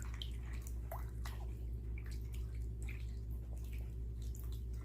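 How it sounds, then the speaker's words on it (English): Water sloshes and drips while a 1998 Furby skin is worked with conditioner by hand, with small wet splashes and squishes over a constant low background hum. "Make sure the water's moving."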